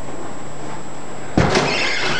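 A heavy door swings shut partway through, a single loud thud with a brief rattling tail following a quiet, steady indoor hum.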